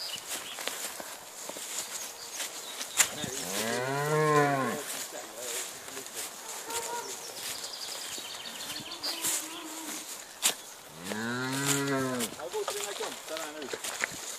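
Two long, deep cow moos ring out a few seconds apart over a quiet outdoor backdrop with faint footsteps and rustling.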